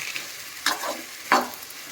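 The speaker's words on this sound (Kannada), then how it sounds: "ಲಾಸ್ಟಲ್ಲಿ ನಾನು ಇವಾಗ ಶುಂಠಿ ಹಾಕ್ಕೊತಾ ಇದ್ದೀನಿ." Ginger fries in a pan for village-style mutton sambar, a faint soft sizzle with two short bursts of stirring scrape, quiet and brief, with no talking.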